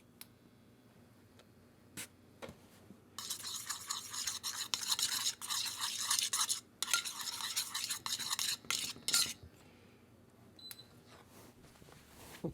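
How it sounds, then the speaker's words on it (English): A spoon stirs a coffee cake topping mixture in a bowl, with bursts of brisk scraping and clinking between quieter pauses. "We'll mix that in and see where it gets us."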